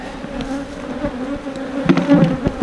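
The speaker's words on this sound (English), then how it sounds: "Look at this hive over here. It's all pissed off now." Agitated honeybees swarm around a disturbed hive in a yard, a dense, steady buzzing hum that swells louder near the end, with no talking.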